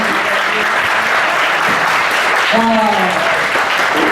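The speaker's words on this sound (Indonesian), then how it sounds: "Tepuk tangan dong sekali lagi." An audience at a Jakarta and Surabaya community reception applauds, steady clapping that lasts throughout, with a voice speaking briefly over it.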